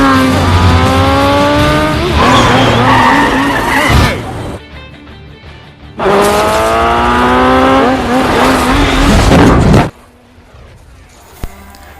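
Motorcycles race on a highway in a chase scene from Mission: Impossible 2, their engines screaming loudly through two long, high-revving bursts with squealing tires, separated by brief quieter gaps.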